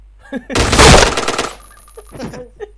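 A loud, rapid burst of automatic gunfire rings out in a shooting video game, lasting about a second, with scattered in-game sounds before and after it.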